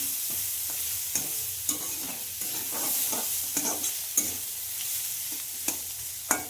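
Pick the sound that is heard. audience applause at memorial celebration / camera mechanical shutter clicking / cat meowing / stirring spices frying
stirring spices frying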